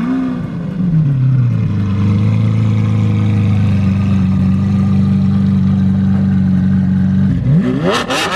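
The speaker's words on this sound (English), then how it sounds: "I think purely based on just hearing that exhaust note, I'm gonna have to go with the Centenario." A supercar, a Lamborghini Centenario or McLaren Senna, sends out a loud, sustained exhaust note that revs, holds a steady droning pitch for several seconds, then drops and revs again at the end.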